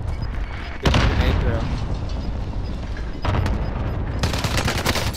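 A grenade explodes in a video game firefight, a sharp loud blast followed by continuous rumbling gunfire and further booms, with players talking over the action.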